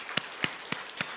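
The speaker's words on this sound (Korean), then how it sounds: "성경 읽기 쓰기 열심히 함께 하시는 분들 우리가 격려하며 우리가 박수하십시다." A few sparse, faint claps from a church congregation at a Sunday service, four distinct hand claps at a slow, steady pace.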